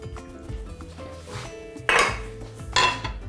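Ceramic plate set upside down onto Armenian lenten dolma in grape leaves inside a pot of vegetable broth, soft clinks and scrapes followed by two louder clattering knocks of plate against pot, close by.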